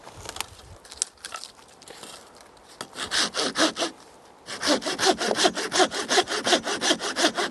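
An old Fiskars hand saw with a tired, worn blade cuts through wood: a few tentative strokes at first, then steady rapid back-and-forth rasping strokes, loud and close, with no talking.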